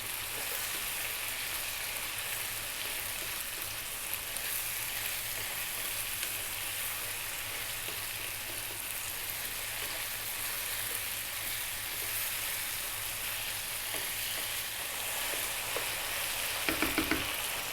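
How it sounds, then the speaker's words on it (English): Sliced red onion frying on high heat gives off a steady, even sizzle with light crackle, close and continuous throughout, with a few louder pops near the end. "we're now going to add 1 onion. I'm using a red onion sliced. Stay on the high heat 5 more minutes."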